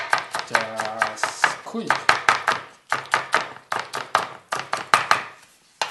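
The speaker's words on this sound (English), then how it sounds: "so get myself a quick chop because I like strong spring onion flavor" Spring onion is chopped with a knife on a board for prawn oil, a fast run of sharp, even, close knocks that continues under a man's speech.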